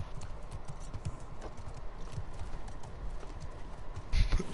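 Horses in the video game The Last of Us Part II clop their hooves in a steady walking rhythm, with a louder snort or shuffle near the end, close by and unaccompanied by talk.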